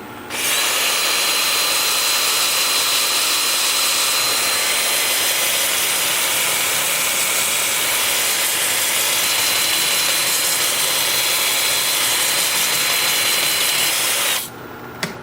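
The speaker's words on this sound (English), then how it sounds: "Then with the lathe spinning in reverse at 350." A wood lathe spins in reverse, turning aromatic cedar, giving a loud, steady whine and whir that holds unbroken for most of the span before cutting off near the end.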